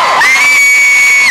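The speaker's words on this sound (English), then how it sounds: "Applause for the cast of Merlin" A large outdoor crowd at the Cardiff Christmas lights switch-on cheers for the cast of Merlin, with a single shrill sustained whistle-like shout riding over the brief roar.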